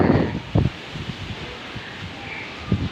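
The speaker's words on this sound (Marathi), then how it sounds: "सगळीकडे वादळ वारा सुटलेला आहे बघा" Storm wind is whipping through leaves, giving a steady loud rustle with a few strong gusts close to the microphone.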